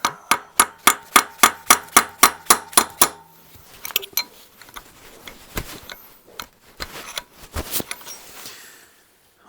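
A hammer strikes a chisel during a 1968 Regal rebuild, first a fast, steady run of about a dozen loud metallic blows, then quieter irregular taps, scrapes and clinks of metal.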